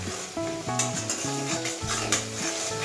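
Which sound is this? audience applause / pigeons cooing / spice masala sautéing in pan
spice masala sautéing in pan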